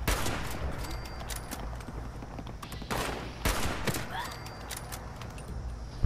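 Gunfire in Fallout 76 comes as repeated sharp bursts of shots crackling in quick succession at close range over a busy game background.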